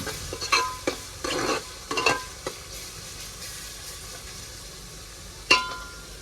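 Onions fry until brown in a pan, with a soft low sizzle under bursts of stirring scrapes and clinks in the first couple of seconds. A quieter stretch follows, then one sharp metallic clink near the end.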